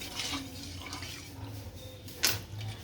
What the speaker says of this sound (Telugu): ఇందులో పసుపు వేసుకొని బాగా ఇలా కలిపేసుకోవాలి